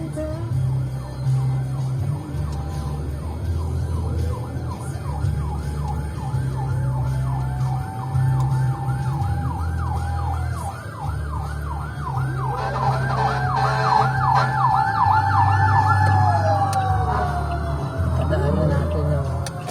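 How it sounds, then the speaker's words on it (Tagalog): A fire truck siren wails in a steady repeating up-and-down pattern, growing louder as it nears on a Manila road, over a low engine rumble, with another siren tone and a brief horn joining later. "Daanan natin yung fire truck para makarating sila sa sunog mabilis."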